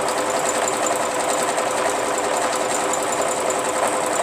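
A sewing machine runs steadily while stitching applique fabric for a quilt, a close, continuous mechanical whir with fast rhythmic needle ticking at a fairly quick pace, heard alone without talk.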